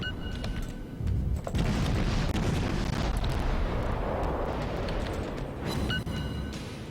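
Cruiser guns fire in the World of Warships naval game from the Atlanta premium cruiser at an enemy Cleveland, a steady barrage of loud, overlapping booms and rumbling blasts with no voices.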